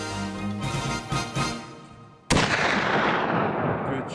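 A muzzleloader rifle fired at a mule deer buck on a hunt in the Paunsaugunt area, a single loud, sharp close report that rings out with a long decaying echo after a brief rustle of handling.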